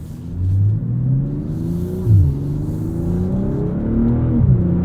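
A 2023 BMW M340i xDrive in sport mode, its engine and 8-speed automatic climbing through the revs in a loud, near droning rumble, pitch rising steadily and dipping briefly at quick shifts.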